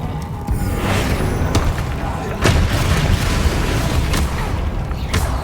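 Bombarda explosion spells in the Hogwarts Legacy video game, several heavy booming blasts and sharp bursts spread over a dense, loud battle din with no pauses.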